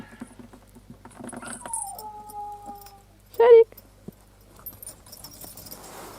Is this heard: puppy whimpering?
yes